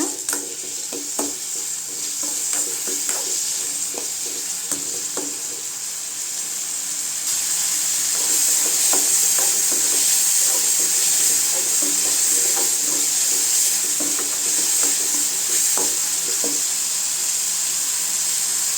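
Tomatoes sautéing with salt in a pan for mint chutney, a steady close sizzle with bright hiss and scattered stirring scrapes and clicks, growing slightly louder midway, with no talking.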